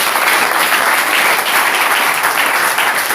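A church congregation claps for the Lord, loud, dense and continuous, many hands beating together evenly from start to finish with no voices standing out.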